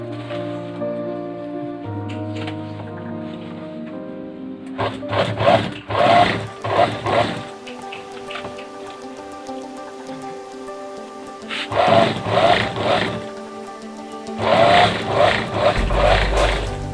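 A sewing machine stitches a jacket zip in three short, rattling bursts, at about 5, 12 and 15 seconds, over steady background music.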